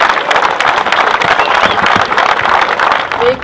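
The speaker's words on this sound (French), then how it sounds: "mes remerciements et vos applaudissements vont vers les bénévoles" An audience at the 2014 gathering of Saint-Laurent towns in France applauds the volunteers: dense, lively clapping from a crowd, steady and fairly loud, with some murmuring mixed in.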